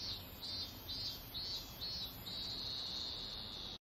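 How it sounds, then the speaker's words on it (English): Summer cicada effect from an anime, a steady high buzzing drone pulsing in a regular rhythm of short swells before settling into a continuous tone, faint and alone. "This is probably one of the most reused sound bits in all of anime. The summer cicada"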